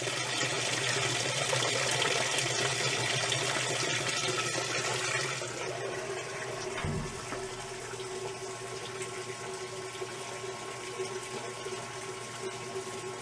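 A 1989 Whirlpool washing machine fills with water, making a steady rushing, hissing flow with a low pump-like hum, loud at first and then settling a little quieter after a faint thump.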